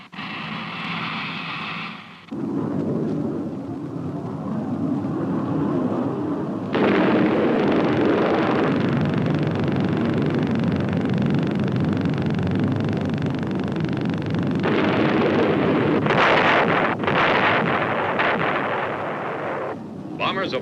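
Atomic bomb dropped from a bomber detonates: after a brief quiet start, a loud broadband blast rises and swells into a deep, sustained roaring rumble that continues to the end.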